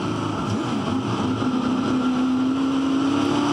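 A Touring Car Masters race car engine revs hard at Queensland Raceway, a loud continuous roar with a steadily climbing pitch near the top of its rev range.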